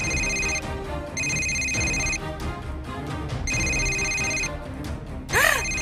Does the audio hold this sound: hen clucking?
no